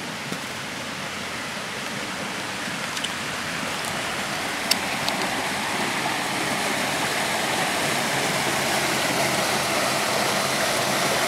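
Twin Falls waterfall near Pickens, South Carolina, roars as a steady, dense rush of falling water, constant and fairly loud throughout with no voices.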